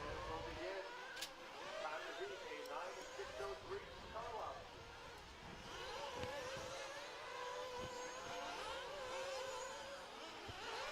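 Nitro off-road RC cars race in national qualifying, their small high-pitched engines whining and buzzing continuously at a distance while a commentator talks over them.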